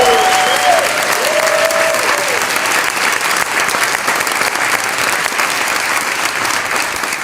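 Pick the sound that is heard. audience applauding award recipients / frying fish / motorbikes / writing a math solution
audience applauding award recipients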